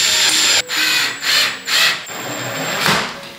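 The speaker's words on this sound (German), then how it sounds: "So, dann brauche ich noch einen Akkuschrauber und einen Bohrer." A cordless drill drives screws into wood while a gaming setup is assembled, loud and close, its motor whirring in several short bursts with brief pauses, grinding and rubbing between them, no talking.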